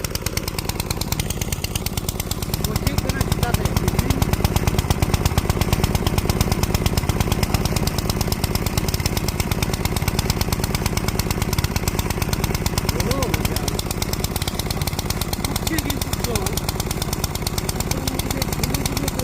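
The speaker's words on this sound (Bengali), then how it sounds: "এই ছোট্ট একটি মেশিন দিয়ে জল এত স্পিডে ঠেলতে পারছে" A small shallow-tube water pump engine runs close by, pushing water uphill with a loud, steady, rapid mechanical chugging that continues unbroken throughout.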